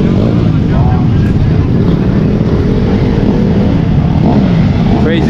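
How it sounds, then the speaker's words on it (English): Motorbikes revving on Hollywood Boulevard, a loud continuous engine roar with rumbling low end and busy street traffic around it, staying close and heavy the whole time. "Crazy guys on the motorbikes doing stunts, going through the red lights."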